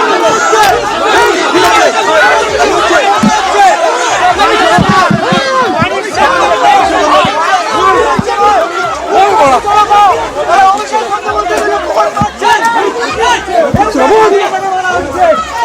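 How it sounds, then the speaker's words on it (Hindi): An angry, dense crowd of local people mobbing and heckling Abhishek Banerjee in Bengal, a constant loud roar of overlapping shouting and chanting voices that swells and churns throughout. "इस दौरान स्थानीय लोग चोर चोर के नारे लगाते रहे।"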